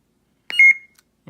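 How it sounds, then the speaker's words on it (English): A single short electronic beep from a Sabertrio Neo Vahlken toy lightsaber rings out clearly against silence, a brief bright tone with a small click before it. "Beep again."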